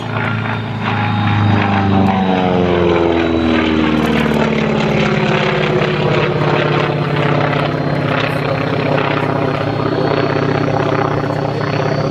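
A Grumman Wildcat fighter, its most powerful version, flies at an air show with a loud, continuous propeller engine drone whose pitch slowly shifts as it passes, with no talk over it.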